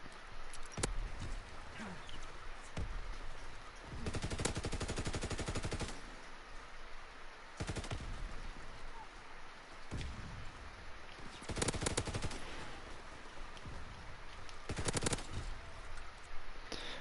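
An MG15 machine gun fires in a World War II video game, rapid sustained bursts of gunfire broken by short pauses, loud and close over constant battlefield ambience.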